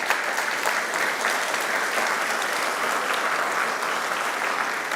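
A church congregation gives a loud, sustained round of applause during a Spanish-language sermon, many hands clapping in an even, dense roar with no speech over it.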